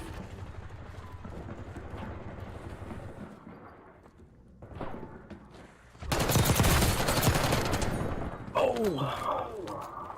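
Gunfire in a shooter video game: a dense, loud burst of rapid shots erupts midway and keeps going for several seconds, with quieter game noise before it and brief sharp sounds after.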